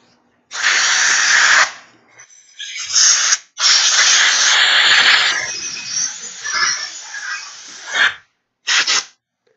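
Compressed air from a handheld air nozzle in a shop hisses in several loud bursts: a long blast, a few shorter ones, a sustained stretch, then quick final puffs, all with no talking.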